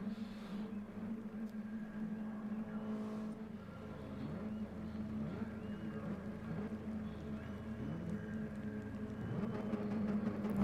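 Mini Cooper race car engines rev together on the starting grid at Goodwood, a steady loud drone of many engines that builds slightly toward the end, heard from close by.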